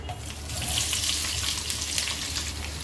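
Chopped onions hiss and sizzle steadily in a hot pan for mixed vegetable pulao, a continuous, fairly loud frying noise without voices.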